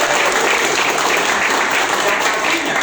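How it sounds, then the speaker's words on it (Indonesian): An audience at a large meetup gathering in Jakarta claps in loud, dense, sustained applause that fills the room evenly, with a voice speaking over it. "Tepuk tangan."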